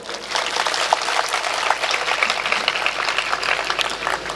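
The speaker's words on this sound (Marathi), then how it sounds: "आयाने पहिल्यांदा टाळ्या वाजवायला काय हरकत नाही" A crowd at a lecture on Chhatrapati Shivaji Maharaj claps in a dense, moderately loud patter that keeps going for several seconds, with a few sharper slaps standing out and no voices over it.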